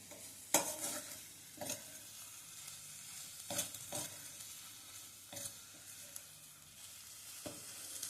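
Roasted coconut masala, both kinds of coconut, being sautéed and stirred in a pan for a village-style pigeon pea curry, with a soft steady sizzle and several distinct scraping strokes of the spoon spaced a second or two apart.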